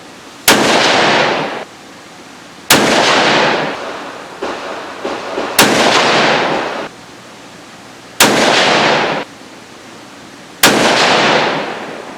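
Five loud, close .308 rifle shots from a G2 Research Trident Ripout, spaced about two to three seconds apart, each a sharp crack with a booming tail that rings out over an open range toward a target at 100 yards.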